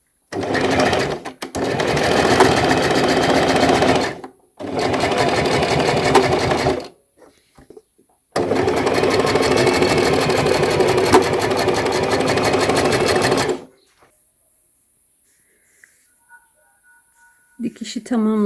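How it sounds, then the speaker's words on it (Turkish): A sewing machine stitches fabric for a sleeve in three loud, steady runs of rapid mechanical chatter separated by short pauses, with near silence and a faint click at the end. "Şöyle bir miktar burayı dikiyorum."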